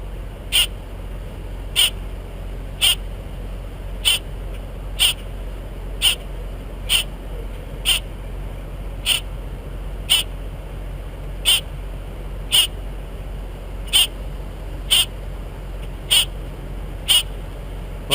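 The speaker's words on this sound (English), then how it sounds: "Well, I hear some other squawking," Short, sharp bird calls repeat at an even pace, about one every second, some fifteen in a row, each brief and clear over a low steady rumble.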